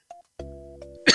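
One short, sharp cough bursts out close to the microphone, right after a few bright electronic chimes from Super Mario World gameplay.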